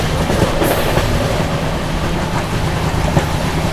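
The 12430 New Delhi Lucknow AC Superfast Express races past the Muzaffarpur Garib Rath at high speed, heard from on board as a loud, dense, continuous roar of wheels and rushing air with no break.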